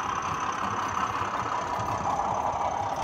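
Sound-fitted deluxe Bachmann model diesel locomotive, a British Class 31, idling with a steady, continuous mid-pitched engine rumble and faint knocking texture, alone and unbroken throughout.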